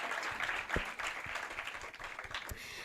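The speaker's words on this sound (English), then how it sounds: "Can we please give a round of applause for Refilwe" Audience applause at the South Africa Fashion Awards 2025 ceremony, a steady, fairly faint wash of many hands clapping together for the whole stretch, with no voices over it.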